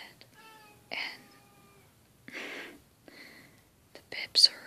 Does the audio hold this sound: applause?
no